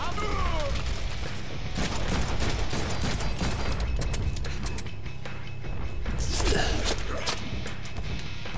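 Rapid, repeated gunshots in a Deadpool video game, a dense stream of fire over busy game noise with crashes and whooshing effects, and a voice talking part of the time.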